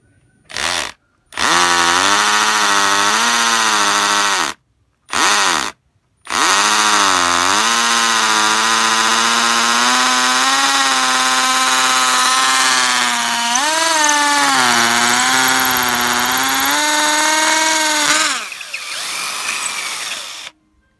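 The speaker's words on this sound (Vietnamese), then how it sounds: "Rồi mình thử khoan cho các bạn xem." A Bosch GSB 140-LI cordless drill whirs loudly in several bursts, first two short starts and then a long continuous run, its pitch rising and dipping as the speed changes.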